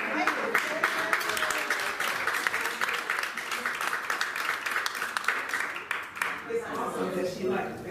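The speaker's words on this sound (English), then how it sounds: "I just think maybe needs a hand of applause" A small audience at a Dunnellon community visioning meeting gives a round of applause, dense steady clapping lasting several seconds with voices mixed in underneath, easing slightly near the end.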